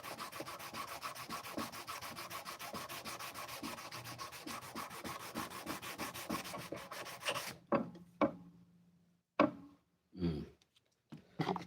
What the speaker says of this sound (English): always tough to sand out that dry glue